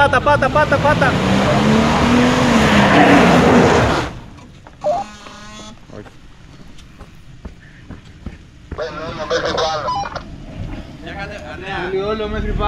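A four-wheel-drive car off-road, engine revving loudly for about four seconds, then quieter clatter and movement with people talking and shouting nearby.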